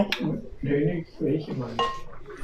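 Plates and dishes clink and clatter in a kitchen as they are fetched, in several bursts with people talking over them.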